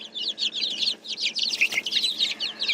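Silkie chickens cluck and chirp nearby in a quick, busy run of short calls, with one slightly louder squawk in the middle, and no talking.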